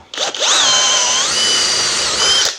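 A power drill turns a tapered tenon reamer, running steadily at high speed, its whine shifting slightly in pitch as it bites into material, loud and close, with no talking.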